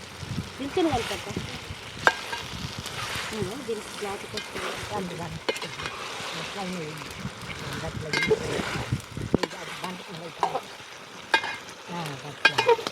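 Chicken curry fries in oil in a village kitchen, sizzling steadily while a utensil stirs and scrapes the pot in uneven strokes, close up, with people talking over it.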